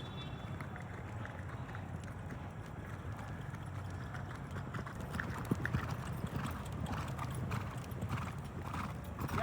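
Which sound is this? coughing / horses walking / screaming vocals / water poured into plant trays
horses walking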